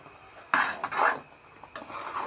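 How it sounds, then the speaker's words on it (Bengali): A spoon scrapes and knocks through khichuri spiced with garam masala in a pot, giving a few short bursts of stirring with quiet gaps between them and no talking. "এটাকে একটু সুন্দর করে নাড়াচাড়া করে নিই"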